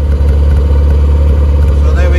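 A small car with a newly fitted cat-delete exhaust rumbles loudly and close, its engine note deep and steady with slight swells as it is revved.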